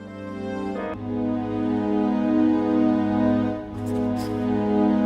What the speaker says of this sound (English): kind of like a very synthesized string pad with a slow attack